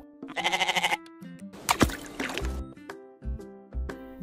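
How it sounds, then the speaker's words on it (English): A toy goat gives a repeated electronic bleat, loud and close, pulsing through the first second, followed by assorted plastic clicks and squishy handling noises. "Goat."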